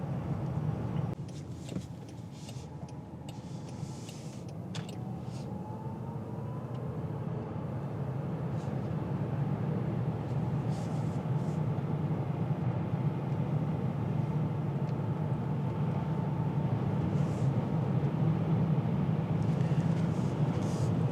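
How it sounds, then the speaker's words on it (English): Steady low road rumble and wind noise inside the cabin of a 2025 Land Rover Range Rover Sport Dynamic SE PHEV plug-in hybrid on the move, a continuous broadband hum that builds slightly over time with no talking. "you hear a little bit of road noise, wind noise."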